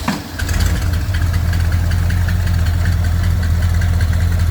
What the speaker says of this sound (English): It fires up and it doesn't hang the starter because I have the starter disconnected.